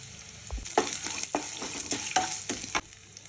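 Curry leaves hit hot oil in a pan while cooking a bottle gourd stir-fry, giving a bright crackling sizzle with several sharp stirring scrapes, close and without speech.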